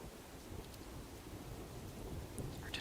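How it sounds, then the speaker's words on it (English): Background rain playing at low volume: a steady, soft wash of falling rain with faint pattering and occasional low rumbles, continuous and unobtrusive, with no talking. "I do have rain sound going"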